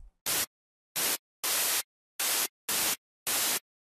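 Six short bursts of filtered white noise from an FL Studio 3x Osc synth, each a bright, hissing blast with sharp on and off edges, separated by silent gaps and played fairly quietly.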